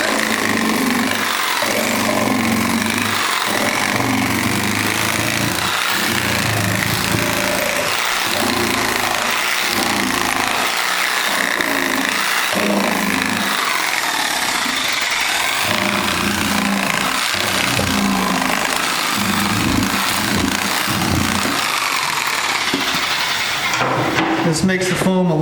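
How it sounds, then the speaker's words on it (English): A Sawzall reciprocating saw buzzes steadily, cutting foam inside the fiberglass hull of a Sea-Doo jet ski, with a loud rhythmic chatter that pulses through nearly half a minute while a voice talks over it. "you take your Sawzall, make a bunch of cuts"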